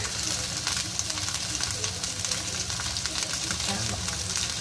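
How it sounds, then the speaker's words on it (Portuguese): Gyoza and shimeji mushrooms fry in a pan with a steady, bright sizzle and hiss that holds evenly throughout, close and moderately loud, with faint background voices. "aqui o gyoza já tá dourando"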